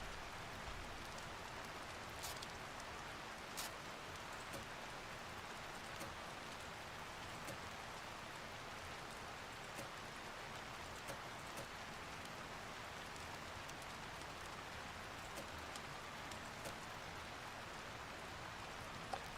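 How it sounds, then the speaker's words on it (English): Rain in the blacksmith game Blacksmith Master, a soft steady hiss of falling drops with faint scattered patters, continuous and alone. "that rain is kind of soothing"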